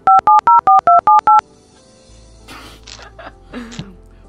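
Seven quick telephone keypad tones dial a phone number in an even, loud rhythm, followed by a low hum and brief scattered noises.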